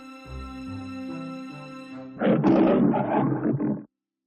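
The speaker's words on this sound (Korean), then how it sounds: "용맹한 사자가 되어 으르렁거렸어요" A deep, loud cartoon lion roar bursts out after a sustained musical tone in an animated Wizard of Oz story, rumbling for over a second before cutting off abruptly.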